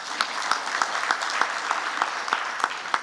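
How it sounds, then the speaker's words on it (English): Sparse, slow audience clapping at an annual general assembly meeting, a few hands striking in a loose, steady rhythm of about three claps per second, moderately near with a thin background of room noise. "I see that the clapping is not like you appreciate"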